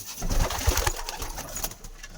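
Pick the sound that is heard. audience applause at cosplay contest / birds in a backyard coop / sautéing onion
birds in a backyard coop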